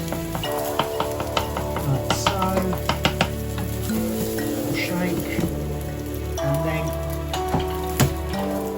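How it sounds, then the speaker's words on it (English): Crispy shredded chilli beef frying in a non-stick Teflon pan, shaken and moved around, giving a dense crackling sizzle with sharp spattering pops and rattling scrapes, close and continuous. "Shaky in the pan, move it around."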